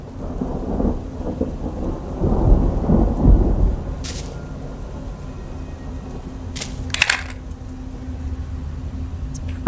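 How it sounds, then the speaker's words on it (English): Rain and thunder in a horror shooter game: a low rolling rumble swells and fades under steady rain hiss, with a few sharp crackling bursts breaking through. "This is rain."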